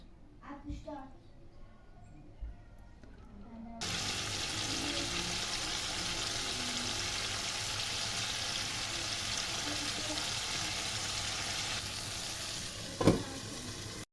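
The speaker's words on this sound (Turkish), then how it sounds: "ve kızgın yağda kızartıyoruz" After a few seconds of quiet talk, chicken gizzards hit hot oil and a loud, steady sizzle takes over, with a brief clatter near the end.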